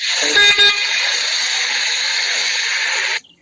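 A car horn blares loudly in one long sustained honk, briefly stuttering near the start before holding steady and stopping sharply.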